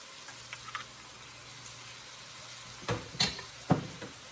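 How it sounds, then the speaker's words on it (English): Tomato paste going into a hot pan for traditional African pasta, a soft sizzle under light scraping, then several sharper stirring clatters toward the end, no voices. "Here now we're gonna add our tomato paste."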